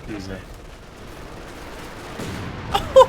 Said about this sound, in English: he's brought up the machine gun as well